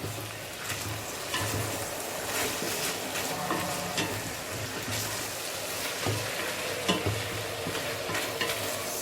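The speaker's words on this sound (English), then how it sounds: "It's sizzling." A stir-fry with chili, spinach and coconut milk sizzles steadily in the pan, a close, dense crackling hiss with occasional stirring scrapes and bubbling, no voices.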